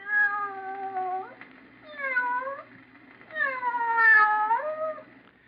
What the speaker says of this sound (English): But in your imagination, didn't you picture a cat meowing?